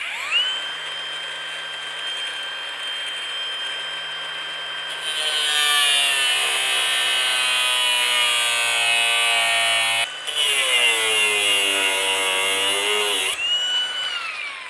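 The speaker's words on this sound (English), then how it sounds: "we're going to cut this top washer in half with a grinder here in my vise" An angle grinder cuts through a top washer clamped in a vise while removing a differential bushing, a sustained loud abrasive whine that rises in pitch and intensity midway, with a brief break before continuing steadily with no talking.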